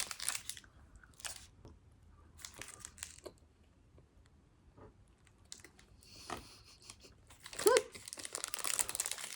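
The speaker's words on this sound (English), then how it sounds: "I'm going to try the protein bar. This is peanut butter jelly." Crinkling wrapper noises and crunchy bites from a peanut butter jelly protein bar, heard in separate close bursts with quiet gaps between them and a louder rustle and crunch near the end.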